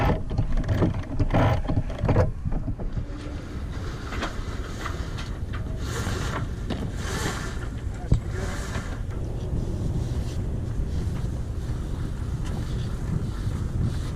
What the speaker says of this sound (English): Okay, no motoring here. We're just sailing straight off anchor, headed to Tangier.